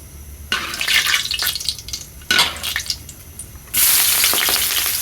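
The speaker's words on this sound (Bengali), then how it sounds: "এই যে বড় কড়াইয়ের মধ্যে এখন হলো তেল দিয়ে দেওয়া হচ্ছে। তারপর এখানে দেওয়া হলো মশলা, এলাচ আর হলো দারচিনি।" Spices, cardamom and cinnamon hit hot oil in a large wok, bursting into loud sizzling in three sudden surges, each fading a little before the next, with a fierce hiss building at the end.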